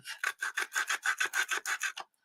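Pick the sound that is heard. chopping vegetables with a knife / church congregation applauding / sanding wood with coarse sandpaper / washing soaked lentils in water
sanding wood with coarse sandpaper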